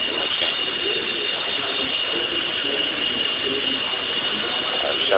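A CNC machine cutting a stator removing tool runs with a continuous mechanical whir and ratcheting buzz, steady and close throughout, with no talk.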